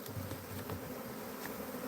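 A swarm of bees buzzes around the door of a bee trap, a continuous, dense drone that is faint and steady throughout.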